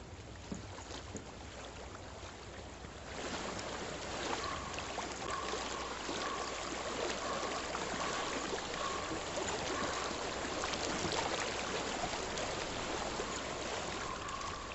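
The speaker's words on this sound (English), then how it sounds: "I hear water." A flowing stream in the video game Hellblade: Senua's Sacrifice gives a continuous rushing wash of water that grows a little fuller after the first few seconds and stays steady, with a faint tone drifting in the background.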